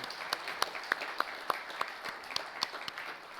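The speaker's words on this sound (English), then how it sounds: "Give them a big round of applause, each one of you." Steady applause from a crowd, dense clapping with a few sharper individual claps standing out, continuous throughout.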